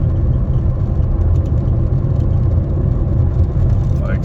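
A broken Ford Focus engine revving up under light acceleration, a steady close low rumble and whir filling the cabin with no talk over it.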